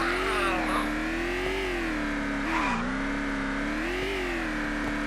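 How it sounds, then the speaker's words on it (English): A car engine idles steadily in the Project Zomboid video game, a constant low hum that holds near and even throughout with slight swells in pitch, with no talk over it. "Leave the car running."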